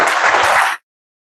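A brief burst of audience applause after an interview with Richard Petty, dense clapping for under a second before cutting off abruptly into silence.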